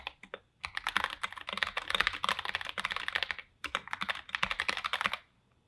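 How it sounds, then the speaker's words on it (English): Fast, steady typing on a computer keyboard, close and clear, in two long bursts of rapid clicking with a brief pause between them, ending in silence; no talking. "I'm gonna start typing and you'll see what a big difference this makes."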